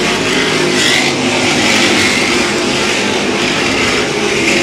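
Ford modified race cars roaring around the EMRP oval during a feature race, loud engines revving and surging past in overlapping waves, a continuous throaty drone that swells and fades as cars pass close by.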